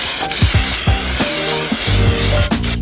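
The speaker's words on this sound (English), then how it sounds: "Can of brake cleaner." A can of brake cleaner sprays in a steady, loud aerosol hiss that runs the whole time, working on a Honda Civic Si, with a few low knocks and clunks of parts underneath.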